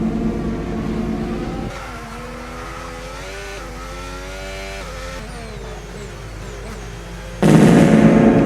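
Racing car engine in a Brazil Grand Prix racing video game, a steady loud drone that drops to shifting revving tones, then bursts loud again near the end.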